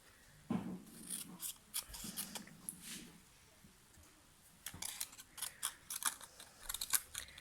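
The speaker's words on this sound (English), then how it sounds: "So let's cut this down to about 1/2 inch" Scissors cut a cardstock belly band for a handmade business card holder, giving faint, close snips and crisp rustling in scattered bursts, with a little soft talk early on.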